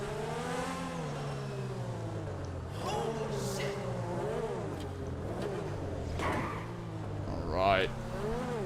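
Exhaust note of a Grotti X80 Proto, a Ferrari F80 Concept-style hypercar in GTA Online, holding a steady high-pitched engine drone that rises and falls with revs, close and continuous throughout.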